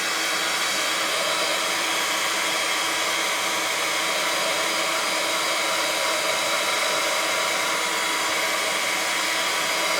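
A heat tool or hair dryer blows continuously to dry ink on a handmade card, a loud, steady broadband roar held unchanged throughout, close by.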